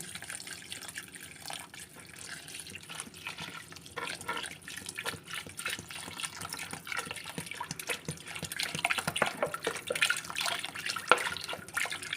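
Water pours steadily from a 1.5-litre plastic soft-drink bottle in a continuous splashing trickle, growing slightly louder and fuller toward the end, with no talking.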